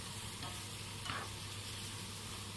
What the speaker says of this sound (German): Und dann kommen erst die Zwiebeln dazu. Die unterrühren und ebenfalls so 1-2 Minuten mit anbraten.